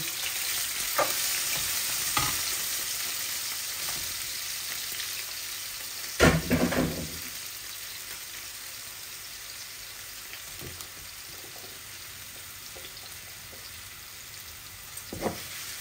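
Pieces of rohu fish frying in hot oil make a steady, close sizzle with occasional louder spatters and utensil scrapes as they are turned, no voices.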